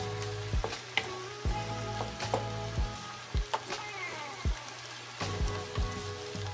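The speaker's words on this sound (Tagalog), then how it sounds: "So habang ginigisa natin, ilalagay na natin yan para bumango." Chicken liver and gizzard sautéing in a pan, a steady close sizzle with frequent pops and crackles and occasional clinks of stirring, no talking.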